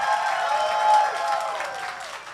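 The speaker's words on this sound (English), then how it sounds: "can we give a big round of applause for Robin, Kieran" Audience applause at the Gayming Awards 2023 ceremony: a brief, dense burst of clapping from the crowd, steady and fairly loud, tapering slightly at the end.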